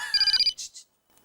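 A telephone ringtone trills briefly and fairly loudly, then cuts off, followed by a couple of short beeps and near silence.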